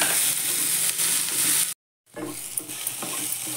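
Paneer chilli ingredients stir-fried in a pan, a bright loud sizzle with scraping spatula strokes, broken by a brief silent gap before the frying and stirring resume.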